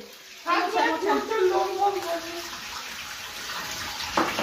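Tap water runs steadily while a Labrador is bathed, a continuous broadband splash under close talk from a woman at the start, then continuing alone at moderate level.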